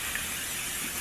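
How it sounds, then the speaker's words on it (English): Cooking spray hissing steadily from a can into a cake pan, a continuous close, even spray lasting about a second, with no voices over it. "Let me spray my cake pan."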